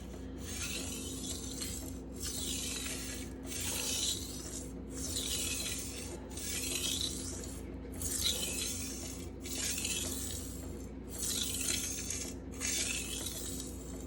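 An S35VN knife edge is drawn across a Rockstar 320 grit sharpening stone in about eight regular rasping passes, each a crisp scraping stroke separated by brief pauses, close and fairly quiet.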